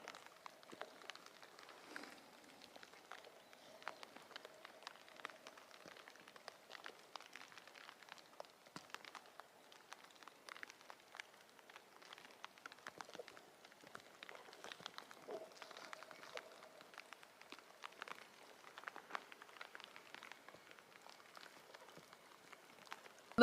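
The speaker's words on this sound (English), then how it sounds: "Rain on the PCT." Rain patters steadily on the Pacific Crest Trail, a soft, continuous hiss of scattered drops spread evenly and faintly, with no one talking.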